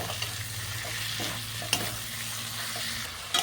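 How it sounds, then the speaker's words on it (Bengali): Grated coconut and tomato are stirred in a hot frying pan, giving a continuous soft sizzle with a few scraping clicks from the spatula, close and steady with no talking. "এরপর দিয়ে দিচ্ছি নারকোল কুড়িয়ে রেখেছিলাম আগে থেকে, নারকোল কোড়া। আবারও নাড়িয়ে নেব।"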